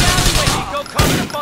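Rapid bursts of drive-by gunfire in GTA 4, loud and close, with dense overlapping automatic shots crackling continuously across the moment and a fresh volley near the end.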